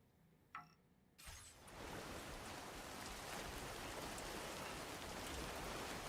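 Steady, dense rain from Death Stranding, starting after a brief quiet patch and a short tone, then a constant broadband hiss of falling rain that holds at an even level with no talk.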